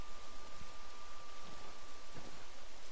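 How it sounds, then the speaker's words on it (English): Rain in the Ghost Recon video game, a dense steady hiss of falling rain with a thin constant tone and faint low rumbles underneath, even and unbroken with no talk. "it's fucking raining"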